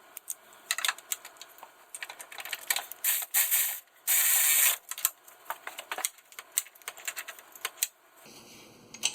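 Ratchet tightening a bolt during steering and CV shaft work on a 1997 Chevy 1500 Silverado 4X4: rapid, close clicking in uneven bursts, with a couple of longer grinding rasps midway, no talking.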